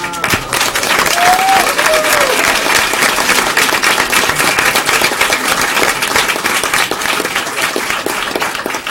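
A school board meeting crowd gives a loud, sustained round of applause, dense clapping running steadily for the full stretch with no one speaking over it.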